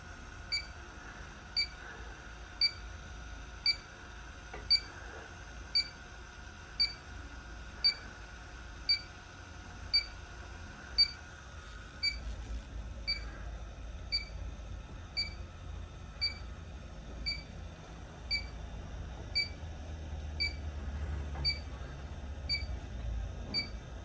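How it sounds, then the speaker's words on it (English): A refrigerant leak detector beeper chirps faintly at a steady, even pace, about once per second, then fades under low background noise partway through. "I hear the leak detector's warmed up"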